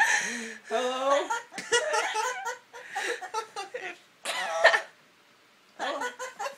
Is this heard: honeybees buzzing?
no